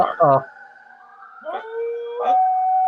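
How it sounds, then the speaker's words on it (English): A dog howls along with a fire engine siren, its long wavering howls rising in short bursts over the sustained siren tone nearby. "My dog's howling at a fire department."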